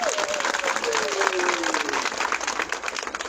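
A crowd at a welcome-home gathering applauding, with dense scattered clapping heard beneath a voice speaking and a gliding tone running across it.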